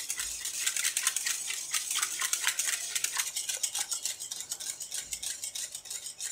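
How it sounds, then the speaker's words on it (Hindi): Chilled cream being mixed in a bowl for no-machine Oreo ice cream, a steady run of quick scraping, rattling whisk strokes against the bowl, fairly loud and close, with no talk. "तो क्रीम को मिक्स कर लें।"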